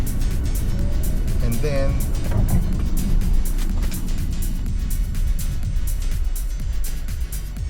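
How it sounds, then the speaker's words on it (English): A BYD Tang DM-i electrified seven-seat SUV accelerates flat out in sport mode, a loud, continuous rushing roar of road and wind noise with a faint rising whine, while people talk over it. "So we're gonna start a full acceleration. I'm gonna be on sport."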